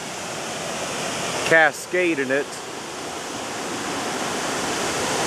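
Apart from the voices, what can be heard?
water cascading over a canal aqueduct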